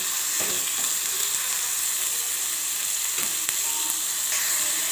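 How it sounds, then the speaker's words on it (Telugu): Onions sizzle and fry in hot oil in a home kitchen pan, a steady close crackling hiss that runs throughout with a few brief clicks of stirring. "ఇది వేడైన తర్వాత ఇందులో ఆనియన్స్ వేసేసుకోవాలి."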